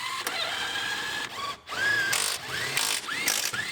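A ratchet clicks in quick bursts while bolts are tightened beneath a car dashboard during an Acura RDX rebuild, the clicks close and sharp with short pauses between runs.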